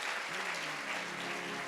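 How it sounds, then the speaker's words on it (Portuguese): Steady applause from a church congregation, a continuous wash of clapping with no pauses, fairly distant and even in level. "Vamos aplaudir a Jesus."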